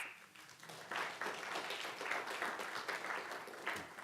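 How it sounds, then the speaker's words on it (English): Modest applause rises at a school board meeting welcoming a new college career readiness advisor, a soft steady patter of several people clapping that swells after a quiet start. "Give him a big round of applause."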